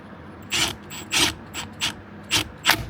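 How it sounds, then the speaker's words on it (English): A bolt is fastened onto an interior panel of a GX. Six short, separate clicking scrapes sound close by, ratchet-like, each with a brief rasp, spaced by small pauses, with no talk. "That bolt is secured onto here now."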